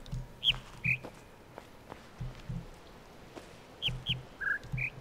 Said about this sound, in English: This looks like a speaker playing bird sounds.